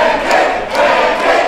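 Wrestling crowd at an SWA Wrestling show cheers loudly for Pancakes, a dense, continuous roar of voices with slight swells.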